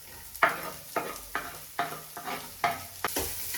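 Onion added last to a hot pan sizzles and fries alongside ginger, with a spatula stirring in repeated scraping strokes roughly every half second, close and moderately quiet.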